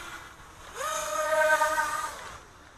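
A racing quadcopter flies sideways at full throttle, its motors rising into a loud, high-pitched harmonic whine that holds for about a second before fading away.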